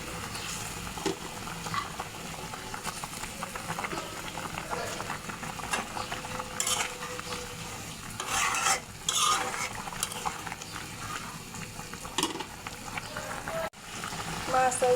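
Fried pangas fish goes into a simmering, bubbling curry in a pot and is stirred, with spoon scrapes and clinks over a constant boil while someone talks throughout.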